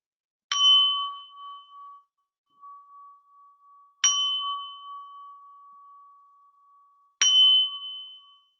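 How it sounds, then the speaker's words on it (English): A meditation bell is struck three times at even intervals, each clear ding ringing out with a long, slowly fading tone in an otherwise quiet space. "Summer, can you lead us into this meditation with a bell chime?"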